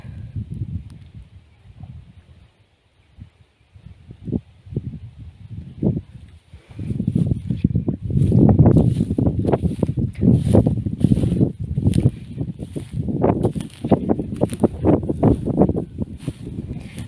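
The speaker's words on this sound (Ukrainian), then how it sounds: "вітерець, правда, такий не холодний." An outdoor breeze on a spring walk past flowerbeds gusts against the microphone, quiet and sporadic at first, then a steadier run of low, buffeting rumbles through the second half.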